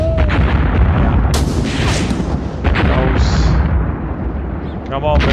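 Tank cannon and artillery fire boom repeatedly in a Graviteam Tank Warfare battle, with loud, dense blasts and rumbling explosions overlapping, plus brief high-pitched bursts and whistles.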